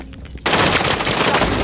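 Automatic gunfire in Call of Duty Warzone erupts suddenly after a quiet moment, then continues as a loud, dense, rapid burst.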